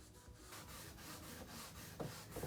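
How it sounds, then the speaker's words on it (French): A cotton cloth rubs back and forth over a furniture surface, making soft rhythmic swishing strokes, about five passes close up, with a couple of slightly sharper scuffs near the end. "Et je viens frotter sur ma surface."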